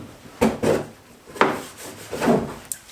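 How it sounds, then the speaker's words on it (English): Hand sanding on a body panel of a V8 R34 Skyline four-door being widebodied. Four rasping strokes come in two pairs, close and fairly loud, with short pauses between them. "More sanding."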